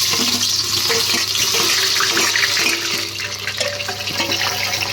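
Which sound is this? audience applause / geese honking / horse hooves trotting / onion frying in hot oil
onion frying in hot oil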